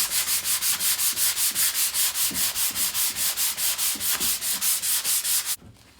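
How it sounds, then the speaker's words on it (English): Fast, regular back-and-forth strokes of 220-grit sandpaper removing rust, loud and close, continuing steadily before stopping abruptly near the end. "And just sanding it down"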